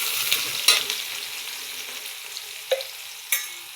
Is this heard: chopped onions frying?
yes